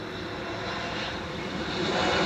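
An Embraer 195-E2 airliner landing on runway 06 at Amsterdam Schiphol, a steady broad jet roar at a distance that swells slightly, with no talking.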